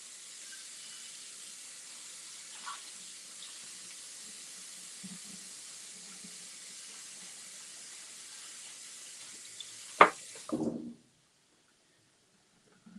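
Tap water runs steadily into a kitchen sink while washing up during ramen cooking, a constant hiss that cuts off near the end after a sharp clatter and brief thud of dishes.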